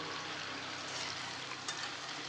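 Katla fish frying in hot oil for an aloo dum, a steady, even sizzle close up throughout with no voices, one slightly sharper crackle near the end.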